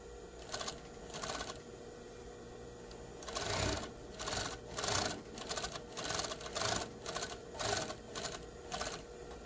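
An industrial sewing machine stitches a collar seam with a half-inch seam allowance, running in repeated bursts of rapid mechanical whirring with short pauses, near and steady.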